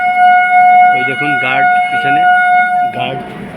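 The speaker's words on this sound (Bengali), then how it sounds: "হর্ন মারলো" A train horn holds a steady, loud tone throughout while people talk over it nearby.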